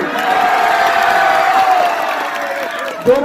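Audience at a high school's 100th anniversary celebration in a large crowd, with a steady wash of clapping and cheering mixed with murmuring voices, continuous and fairly loud throughout.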